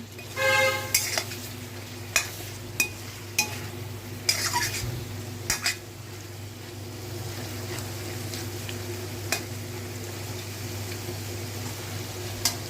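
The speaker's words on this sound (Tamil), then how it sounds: "நல்லா கிளறி விடுங்க" Cauliflower fry stirred in a pan with a utensil as its remaining water cooks off: a soft steady sizzle throughout, with sharp clinks and scrapes of the spoon against the pan, busiest early on.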